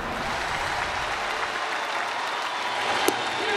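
A baseball stadium crowd at a Cubs versus Cardinals game cheers and applauds after a strikeout, a dense, loud, sustained roar from many people filling the whole moment.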